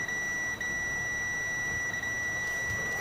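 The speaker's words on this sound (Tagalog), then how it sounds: "Dapat may makuha tayong buzzer base sa kanyang connection." A steady high-pitched electronic buzzer tone from a Samsung digital inverter refrigerator control board drones continuously over a constant background hiss, with no talking.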